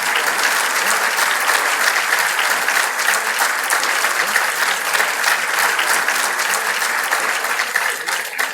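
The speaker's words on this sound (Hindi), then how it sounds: "ये ताली आप अपनी आत्मा के लिए बजा रहे हैं।" Steady, loud applause from a large audience at a public address by a state governor, continuous sustained clapping throughout with no break, filling the whole stretch.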